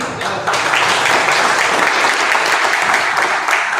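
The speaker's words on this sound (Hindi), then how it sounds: "तो तालियां बीच में बजनी भी चाहिए" A roomful of attendees at a company business meeting breaks into applause, a dense, even wash of clapping that swells in early and stays level throughout.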